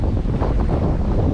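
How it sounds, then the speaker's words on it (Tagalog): Strong wind in the aftermath of a typhoon, buffeting the microphone in a dense, unbroken roar near the water, loud and close for the whole moment. "Lakas ang hangin o."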